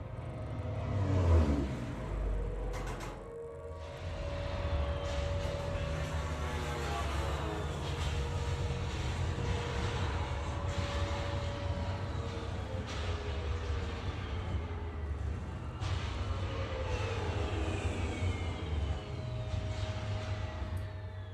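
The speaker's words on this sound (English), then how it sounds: "This is the bombing sequence" A dense, continuous roar of aircraft engines and rumbling blasts, with a sharp heavy impact early on, layered loudly and steadily throughout.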